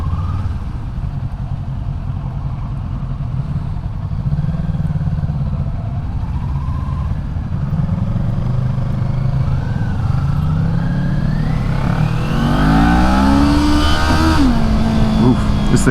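A 2023 Kawasaki Ninja 400 motorcycle engine drones steadily while riding, then revs up with rising pitch toward the end, loud and close with wind rush.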